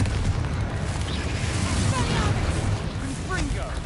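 Confringo explosive spell bursts in Hogwarts Legacy, loud booming blasts layered over continuous combat noise, with voices calling out amid the fight.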